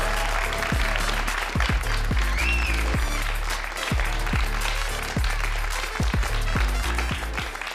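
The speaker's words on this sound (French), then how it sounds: "Sous vos applaudissements" Comedy club audience applauding to welcome a stand-up comedian onto the stage, sustained dense clapping over a rhythmic thumping walk-on music beat.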